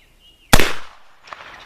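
A single loud, sharp gunshot from a Remington black powder revolver cracks out after a short quiet, followed by a decaying echo and a fainter thump about a second later.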